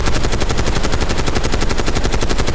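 Rapid automatic gunfire from the Warzone video game, a dense, loud, continuous rattle of shots filling the whole moment with no pauses and no voices over it.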